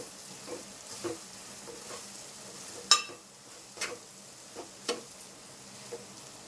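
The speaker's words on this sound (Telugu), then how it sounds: "క్యారెట్ తురుము దాంట్లో వేసుకొని కలిపి వదిలేసి" Grated carrot stirred and frying in a pan, a quiet steady sizzle broken by a few sharp spoon-and-pan scrapes and knocks spaced a second or so apart.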